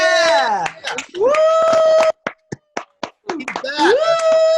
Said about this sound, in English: Hey, round of applause, Ryan.